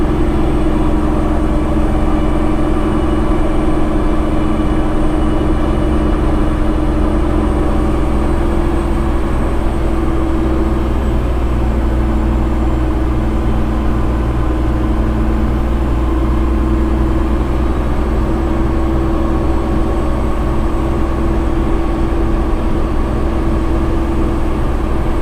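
X-15 truck engine with its engine brake on stage 2 while descending Monteagle, a steady loud low droning rumble that holds unbroken throughout.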